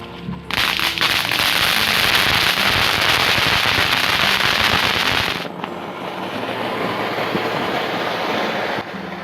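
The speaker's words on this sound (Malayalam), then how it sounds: "1-2 പടക്കമൊക്കെ ഞങ്ങൾ അവിടെ നിന്ന് കത്തിച്ചൊക്കെ നോക്കിയേട്ടോ" A dense, loud burst of crackling firecrackers popping rapidly for about five seconds, then a quieter rumbling, crackly tail of distant noise.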